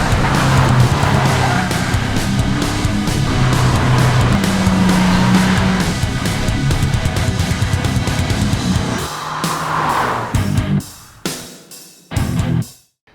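A Kia Ceed GT is driven hard, its engine droning loud and steady with road and tyre noise, then fading and cutting out near the end.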